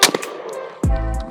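Single close blast from an ATI Bulldog bullpup shotgun loaded with birdshot, a sharp boom with a short ringing tail, preceded by faint clicks.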